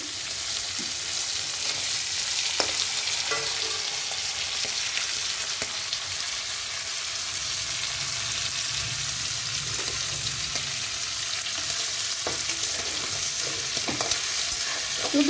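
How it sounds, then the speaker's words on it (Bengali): Potatoes fry in a pan over a high flame for a shrimp, potato and ridge gourd curry, giving a steady, close sizzle with occasional stirring scrapes and no talking. "আমি আলুটা দিয়ে দিলাম জালও আমি হাই ফ্লেমে দিয়ে দিয়েছি"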